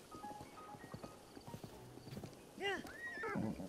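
Horse in Zelda: Breath of the Wild, hooves clip-clopping in a quick patter before a loud, close whinny rises and falls, with faint game ambience and possible voice underneath.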